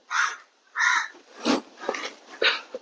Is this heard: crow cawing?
yes